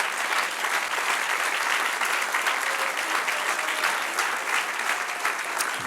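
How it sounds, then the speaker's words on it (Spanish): Congregation applauding at a church sermon, a dense, steady wash of many hands clapping at even loudness throughout, with no voices on top. "Denle un aplauso al que vive."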